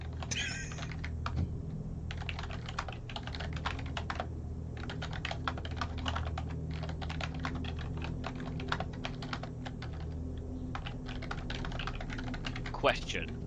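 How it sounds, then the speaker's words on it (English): Steady clattering of fingers on a computer keyboard, busy and continuous with quick key clicks at close range, while people chat quietly in the background during a tabletop game session. "whenever you guys hear someone else typing, does it make you just want to start typing really fucking loud?"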